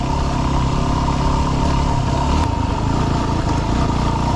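A Yamaha WR dirt bike engine drones steadily while riding over rocky mountain trail terrain, loud and continuous with light clattering throughout.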